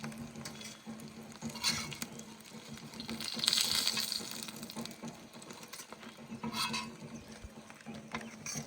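Hilsa fish frying in a pan gives a steady close sizzle with a constant low hum beneath, swelling a little louder around the middle. No one speaks.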